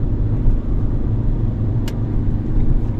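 A Fiat Doblo 1.3 Multijet 90 HP EASY car driven hard while accelerating gives a steady, loud, low engine rumble with road noise that runs unbroken throughout, with no voices.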